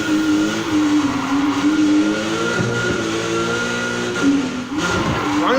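Engine of a 1976 Volkswagen Golf GTI in Need for Speed Heat, held loud and steady near the listener while drifting on the e-brake, its pitch wavering and dipping briefly as the car slides.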